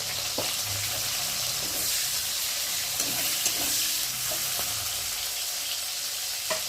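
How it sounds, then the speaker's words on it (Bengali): Onion fries in hot oil in a wok, giving a steady, close, even sizzle with soft stirring clicks throughout and no talking. "আর এখন কড়াতে তেল দিয়েছি, তেলটা গরম হয়ে গেছে। এখন ফোড়নে দেবো পেঁয়াজ।"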